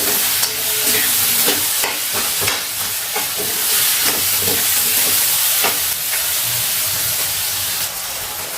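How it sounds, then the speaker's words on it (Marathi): Onion sautéing in ghee in a home kitchen pan, with a steady sizzle and hiss and repeated scraping stirs throughout at an even, close level. "आता आपल्याला हा कांदा छान परतून घ्यायचा आहे"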